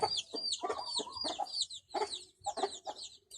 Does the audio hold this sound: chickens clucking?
yes